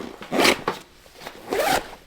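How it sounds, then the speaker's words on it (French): The zipper of a Bellroy Venture Ready 26L backpack is pulled open in two close, rasping strokes. "celui-ci, si vous continuez de dézipper, vient s'ouvrir presque complètement."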